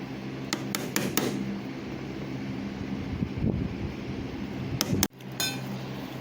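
A hammer strikes a chisel cutting into wood during work on a display Claymore sword. A quick run of sharp, ringing taps opens the passage, then a quieter stretch follows before a few more close hits near the end.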